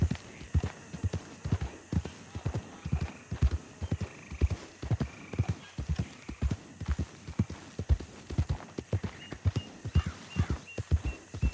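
In the video game Red Dead Redemption 2, steady clip-clop of hooves at a walking pace throughout, with a horse's whinny rising over the rhythmic steps.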